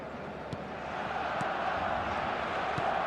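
A stadium crowd in the eFootball video game keeps up a steady, dense roar with a few faint thuds, rising slightly partway through, and no distinct voices over it.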